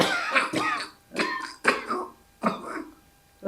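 A person coughs repeatedly at close range, four or five rough bursts with short pauses between them, clear and alone in a quiet room.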